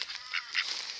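Geese and ducks honk and quack in a wetland in Australia, a brief cluster of close, nasal calls overlapping one another with no talking.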